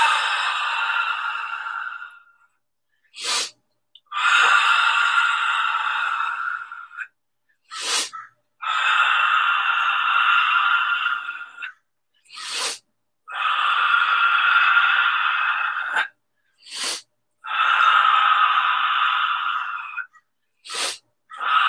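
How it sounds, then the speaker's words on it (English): Forceful breathing exercise from a hard qigong bodyweight workout: five long, strong exhales through the mouth, each a breathy rushing burst lasting about two seconds, separated by short, sharp sniffing inhales through the nose, close and loud with no talk. "Exhale from the mouth, long and strong."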